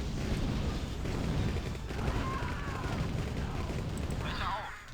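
Gunfire pounds against fortress gates in a Command & Conquer Nod mission, a dense stream of muffled shots and impacts with mechanical clatter that fades out near the end.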